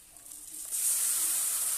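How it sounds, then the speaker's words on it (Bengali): Boiled, ground ridge gourd peel paste dropped into a hot pan of fried chilli and onion sets off a sudden loud hiss that swells and holds steady after a quiet start. "এবারে ঝিঙের ছালটা দিয়ে দেবো। ঝিঙের ছালটাকে আমি সিদ্ধ করে বেটে নিয়েছি।"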